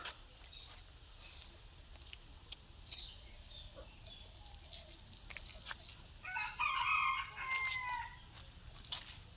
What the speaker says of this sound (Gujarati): દેશી મરઘો